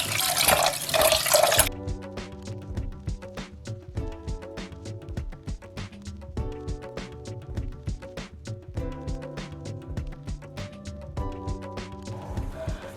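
Water splashes and rushes for a moment as rice is rinsed, then gives way to softer trickling, dripping and light clinks.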